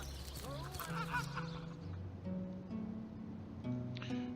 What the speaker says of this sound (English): It was a chicken.